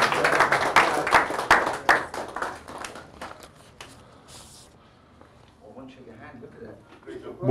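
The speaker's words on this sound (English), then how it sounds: "Let's give her a round of applause, please." A handful of people in a youth skills session clap briefly for about three seconds, close and irregular, then it quiets to faint shuffling and a voice speaking.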